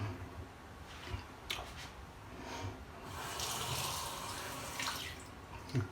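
Water runs quietly from a bathroom tap during a wet shave, a soft steady trickle and splash with a few small knocks and clinks.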